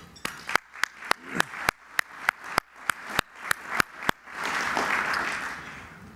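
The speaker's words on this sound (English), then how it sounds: "Please give them a round of applause." At an Economic Club of New York event, a few sharp, evenly spaced claps ring out close by, then swell into broader, softer audience applause near the end.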